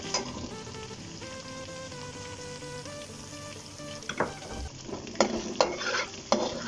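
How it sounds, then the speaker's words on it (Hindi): Garlic ginger paste fries and is sautéed in a pan for Chicken Manchurian, a soft steady sizzle under stirring, with louder scraping clatters of the spoon near the end. "सबसे पहले लहसुन अदरक का पेस्ट डाल दूँगी इसमें, और इसको हल्का सा फ्राई करके हल्का सा इसको सौते करना है"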